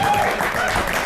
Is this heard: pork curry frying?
no